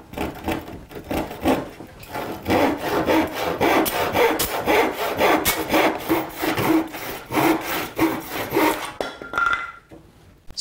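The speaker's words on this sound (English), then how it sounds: "You want to have almost like a finished saw so that you don't cut, you don't splinter the wood as you cut it." A fine-toothed hand saw cuts through wood in steady, rhythmic back-and-forth strokes, loud and close, about twenty strokes before stopping.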